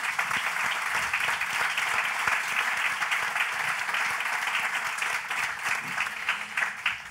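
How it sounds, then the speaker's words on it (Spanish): Sustained applause from a conference audience at the opening session of a congress, steady and dense throughout with no speech over it. "un fuerte aplauso, por favor"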